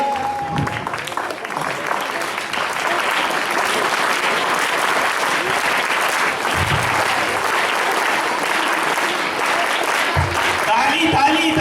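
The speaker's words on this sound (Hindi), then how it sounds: "ताली जोर से" A crowd at an Islamic quiz social gathering applauds loudly and continuously, a thick roar of clapping that holds steady throughout, with a few voices calling out over it.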